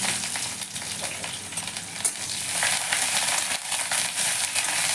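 Onion frying in hot oil with black cumin and dried red chilli, a dense, loud crackling sizzle with scattered pops and spoon scrapes throughout, nearby and unbroken by speech.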